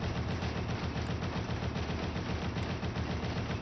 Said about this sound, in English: you just have to basically keep shooting at the front